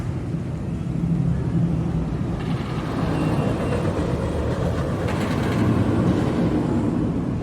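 An empty roller coaster train runs on ArieForce One at Fun Spot Atlanta, rumbling along the track at a distance, a continuous rolling roar that swells and fades slightly over several seconds.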